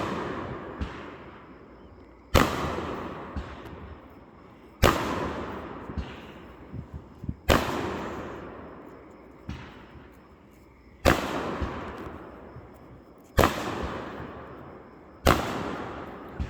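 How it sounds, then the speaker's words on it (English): Sharp neighborhood firework bursts in Hemlock, Michigan, about seven, each followed by a crackling, fading tail, spaced every couple of seconds and loud against a quiet background. "when are there gonna be fireworks to light up my video?"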